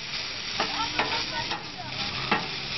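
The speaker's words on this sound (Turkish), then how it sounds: "Mangalda güzelce mi kızartıyoruz" Salami slices sizzle continuously on a hot metal grill, with a few scraping and stirring sounds at intervals.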